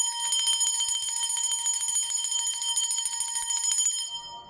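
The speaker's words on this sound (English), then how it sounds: "So I'm going to play the bell sound to anchor that 777 energy" A bright bell rings out with a sustained metallic tone and shimmering overtones, repeated strikes blending into a steady ring that fades out at the end, played to scatter negative energies; no voices.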